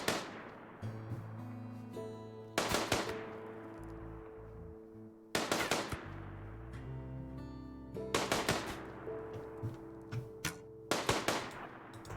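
Gunfire from a gun in a strategy video game: loud, sharp shots come in spaced bursts every few seconds, each with a metallic ring, over steady tonal game music and ambient hum.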